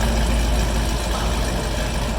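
A 6th gen Chevrolet Camaro fitted with CSP headers and factory exhaust, in track mode, gives a loud, close, deep rumbling rev that holds steady for a couple of seconds.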